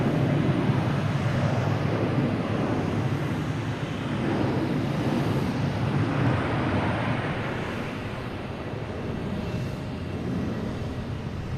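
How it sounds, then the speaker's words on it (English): A JetBlue airliner takes off at Logan Airport, its broad low engine roar steady and loud from fairly close, then easing a little toward the end, with no voices. "for the takeoff here, we have JetBlue heading to Detroit."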